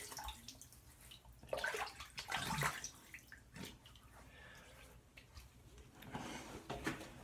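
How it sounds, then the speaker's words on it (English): Tap water splashed by hand onto the face at a sink before a wet shave, a few irregular splashes and trickles at close range, louder in the middle and quieter toward the end. "let me just wet my face and we'll get started"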